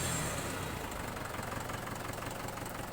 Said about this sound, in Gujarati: એન્જિનમાં પણ વરાળ છે, ધોવાણું કે કાઢતું નથી।